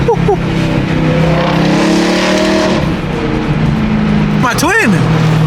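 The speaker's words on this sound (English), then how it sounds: "the E92 has to be the best sounding M3 in my opinion" BMW E92 M3 on the move, its engine and exhaust droning loudly and steadily inside the cabin with pitch rising and falling through the gears, while people talk over it.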